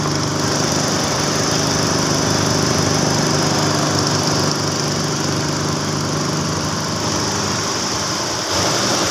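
A 2016 Suzuki Swift engine runs at a steady idle, a constant buzzing drone that stays even throughout, close by with no talking.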